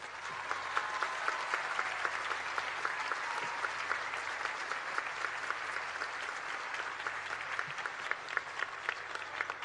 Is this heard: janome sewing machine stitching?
no